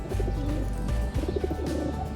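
Silver pigeons, a pair of a male and a female from an old line, coo in low, throaty repeated calls, close and steady with background chatter of other birds.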